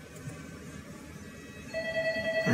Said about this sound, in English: Get the phone. The phone's ringing.